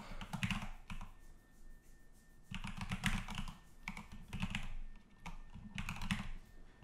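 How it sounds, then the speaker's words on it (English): Continuous typing on a computer keyboard while setting up a Cardano stake pool relay node, with quick clusters of key taps broken by short pauses, close and clear, with no talking over it. "making sure I'm typing it in right as I do it"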